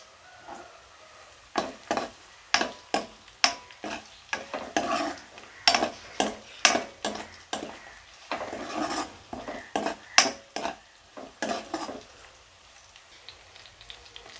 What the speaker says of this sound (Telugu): మెంతికూర ఇలా ఆయిల్ ఆయిల్లో ఫ్రై చేయటం వల్ల